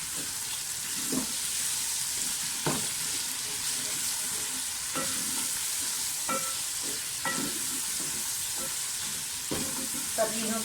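Garlic ginger paste, tomatoes and green chillies frying in ghee, a steady loud sizzle with intermittent stirring clacks and scrapes throughout, no voices over it.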